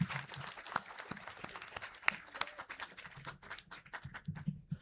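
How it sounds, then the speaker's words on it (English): Scattered audience clapping at a house launch event, fairly faint and thinning out, with individual claps audible throughout. "Please give them a well-deserved round of applause."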